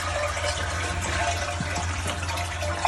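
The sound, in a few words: toilet tank draining water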